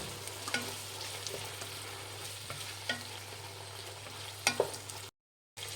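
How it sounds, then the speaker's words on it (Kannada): Chopped tomatoes and onions frying in a pan for cabbage rice, a soft steady sizzle with a low hum beneath and a few sharp scrapes of stirring, then a brief cut to silence near the end. "ಇದಷ್ಟೇ ಮೆತ್ತಗಾಗೋವರೆಗೂ ಫ್ರೈ ಮಾಡಿ."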